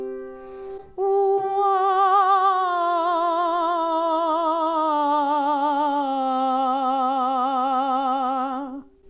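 A soprano sings a sustained warm-up tone on an open ah vowel shaped into a wah, beginning after a brief breath, holding steady, then sliding slightly lower with growing vibrato for about eight seconds, solo and close.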